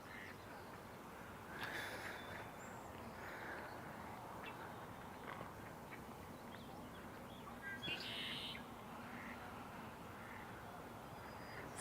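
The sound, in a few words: red-winged blackbird calling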